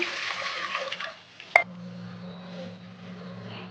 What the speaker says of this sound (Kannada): ಇನ್ನೊಂದು ಕಪ್ಪು ತೊಗರಿಬೇಳೆ ಹಾಕಿ ಚೆನ್ನಾಗಿ ತೊಳ್ಕೊಂಬಿಡೋಣ